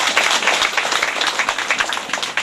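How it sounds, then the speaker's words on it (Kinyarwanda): A crowd claps at a graduation party, with dense, continuous applause of many hands that stays loud and fairly close throughout, and no talking over it. "Ayo mashyi"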